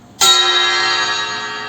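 A bronze bell-metal plate is struck once, giving a bright metallic clang that rings on with a long, steady shimmering sustain, close and loud.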